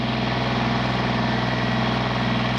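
A large Kubota tractor engine idles steadily and close by, a low, even diesel rumble that keeps a constant level with no other sounds on top.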